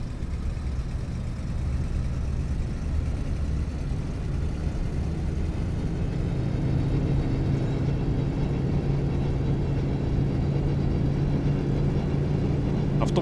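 A steady, low engine rumble and whir of a PAZ 32051 bus driving in the video game OMSI 2, continuous and close, with no voices over it.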